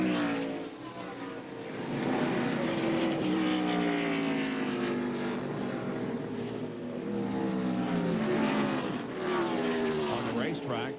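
NASCAR stock cars racing at the Watkins Glen road course in 1998, steady loud engine roar with rising and falling pitch as cars pass, heard under continuous commentary.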